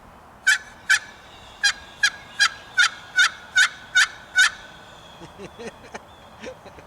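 A series of about ten sharp, evenly spaced turkey yelps from a Quaker Boy Hurricane box call, loud and close, followed by a few softer, ragged notes.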